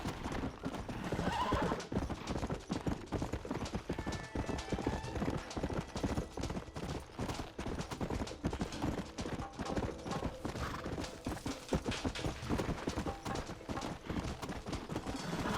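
Horses in the video game Red Dead Redemption clip-clop steadily and neigh, with hooves sounding close and continuous over the whole stretch, a whinny cutting in, and some speech faintly present.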